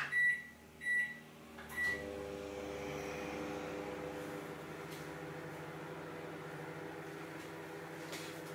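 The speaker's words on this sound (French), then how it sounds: "Et vous allez entendre, je l'ai passé au micro-ondes." Three short beeps sound as a microwave oven starts, then a steady low electric hum runs on, close and even, with no talking.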